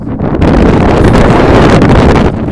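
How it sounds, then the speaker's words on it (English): Strong wind blows steadily outdoors, a loud continuous rushing roar with gusty buffeting against the microphone. "See how the wind picked up just then."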